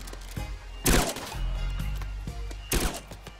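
Two sharp shard rifle shots in the RimWorld video game, each a loud broadband crack, spaced about two seconds apart over quiet in-game ambience.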